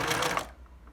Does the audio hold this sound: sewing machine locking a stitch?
yes